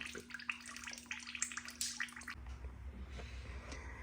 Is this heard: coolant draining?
yes